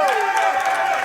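Fight night crowd at a sparring event cheering and whooping during the third and final round, a dense roar of voices with a commentator talking over it.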